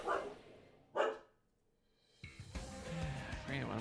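A pet dog barks twice, sharply and close by, with a pause between the barks. Brief voice-like sounds and room noise follow.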